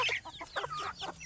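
A mestizo-type rooster on a backyard Filipino farm clucks and calls in a run of short, close, rising bursts over low rumbling background noise.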